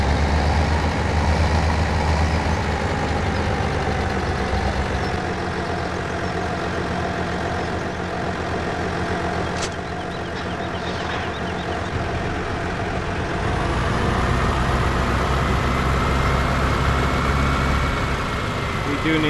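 A Toyota Hilux pickup truck with the bigger engine option idles in Farming Simulator 17, a steady low engine drone running throughout with a slight shift partway, while a voice talks over it.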